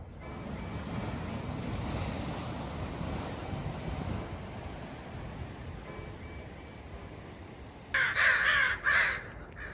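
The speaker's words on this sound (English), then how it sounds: "Can you guys hear these crows?" Wind and distant surf rumble steadily, then near the end a few harsh crow caws ring out loudly in quick succession.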